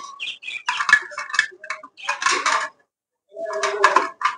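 A handful of grain feed for pigeons and doves is poured into a food bowl in quick rattling, clinking bursts, with a short pause before a final rattle.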